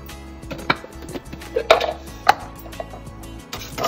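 Knife chopping onions into small pieces with a kitchen chopper gadget, several separate sharp thunks and clatters spaced irregularly over a low steady background hum, fairly close.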